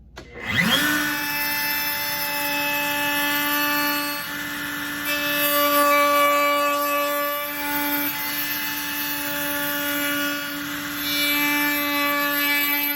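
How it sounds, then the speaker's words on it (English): A table router cuts a profile into a wood piece pushed through with push sticks, a loud, steady high-pitched whine that holds for the full stretch after a quick spin-up, close and continuous. "I can use push sticks, because remember, we need to maintain a distance of 4 inches away from every moving blade, and I can push this through the router"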